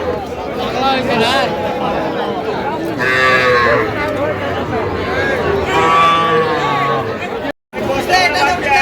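Cows and calves moo repeatedly at a cattle sale, several long lowing calls rising over constant crowd chatter while people talk close by.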